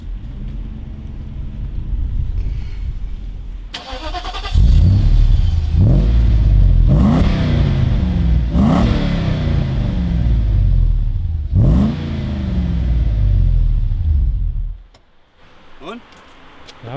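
V8 engine of a Mercedes E500 W124 through a street-legal exhaust, idling and then blipped several times in repeated rising revs before settling; a person talks at times nearby.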